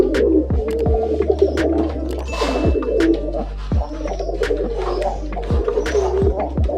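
Shekhar pigeons, including a black running pair, cooing in a hobby loft: repeated low, throaty coos overlap close by, with a steady background hum and a few faint chirps and clicks.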